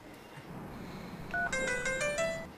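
A telephone being dialed sounds a short run of quiet electronic keypad tones in quick succession near the end, over faint background hum.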